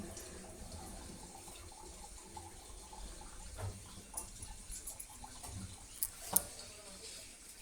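Tap water runs quietly as mustard seeds are rinsed in a sieve at a home kitchen sink, a soft steady stream with a few faint clinks and brief sharper knocks near the end.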